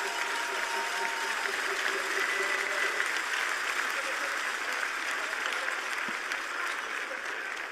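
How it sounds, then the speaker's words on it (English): Audience applauding the silver-medal Concordia Stingers men's hockey team at the U Sports championship, a steady, dense wash of clapping that holds evenly throughout, with faint tones from the arena sound system early on. "let's put our hands together for our silver medalists, the Concordia Stingers"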